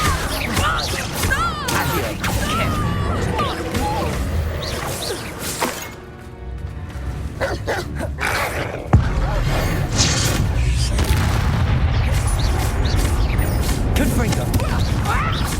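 Reductor curse blasts from a spell duel in the Hogwarts Legacy video game, with repeated shattering crashes and booming impacts throughout, loud and dense, mixed with game sound and voices.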